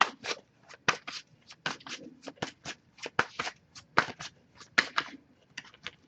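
A tarot deck is shuffled by hand, a series of crisp riffling card bursts in an uneven rhythm, close and fairly quiet with short gaps between shuffles.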